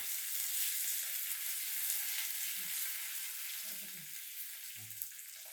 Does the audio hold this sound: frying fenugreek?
yes